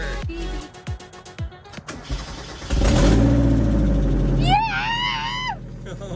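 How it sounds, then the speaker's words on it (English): A Mazda Miata engine with an exhaust leak cranks and then catches, settling into a loud, steady running note. Short bursts of talk come before it and a voice cheers over the engine near the end. "Oh, we got an exhaust leak, that's for sure."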